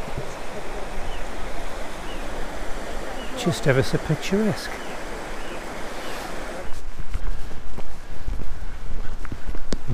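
A river rushes steadily beneath a footbridge near Aira Force waterfall by Ullswater, a continuous broadband wash that swells louder partway through, with a person briefly speaking over it.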